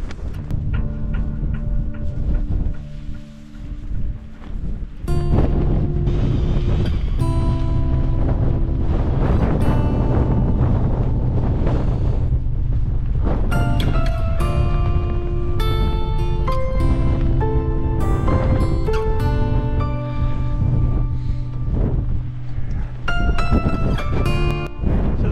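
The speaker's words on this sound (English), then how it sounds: "this wind of between 20 and 30 miles an hour at the moment is coming directly" A strong northwesterly wind of 20 to 30 mph batters a tent at a mountain wild camp in a storm, a loud continuous roar with buffeting gusts and fabric flapping throughout.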